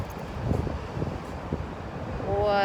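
Gusty wind buffets the microphone in low rumbling bursts, with a brief tonal whine rising near the end.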